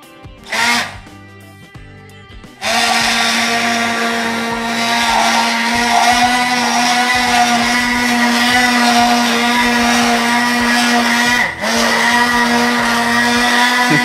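A kitchen blender whirs loudly and steadily, mixing red lentils with coconut milk; after a short start-up burst the motor settles into a continuous close drone with one brief dip.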